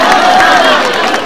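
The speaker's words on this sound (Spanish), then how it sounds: "Un fuerte aplauso para nuestros licenciados." A crowd at an outdoor political rally in Arequipa cheers and claps for military veterans, a dense, steady wash of applause and voices lasting throughout with a faint tonal sound drifting over it.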